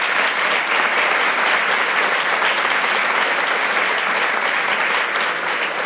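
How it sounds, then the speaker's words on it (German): Indoor audience applauding at a book premiere debate on inflation, loud dense clapping that holds steady for several seconds, with no speech over it. "Applaus."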